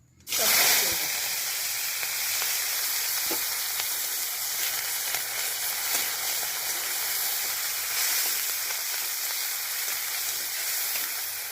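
Chillies, chopped onion and garlic hit hot oil with a sudden loud burst, then a dense, continuous crackling sizzle that holds steady and close for the rest of the clip.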